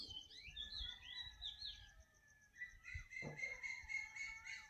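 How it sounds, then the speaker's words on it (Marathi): Several small birds chirp and trill continuously at dawn in a village, with overlapping high calls and a repeating rhythmic song, fairly quiet and without speech. "पक्षी उठल्यानंतर सकाळचा हा त्यांचा किलबिलाट"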